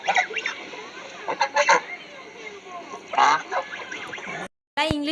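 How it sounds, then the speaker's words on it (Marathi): Swan honking calls, several loud goose-like honks in irregular bursts up close, ending with a short clear tonal call after a brief silence. "याला बोलतात हंस।"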